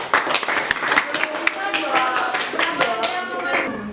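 Participants in a classroom group discussion session clap for group 2, a short burst of scattered, uneven hand claps with voices talking over them.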